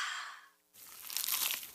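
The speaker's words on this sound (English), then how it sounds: "Is that the sound of an ooey gooey cheesy crunchy slice of P-I-Z-Z-A?" A crunchy, cheesy pizza slice being bitten: a short crisp crunch and crackle follows a brief quiet gap, close and fairly loud, with no talking.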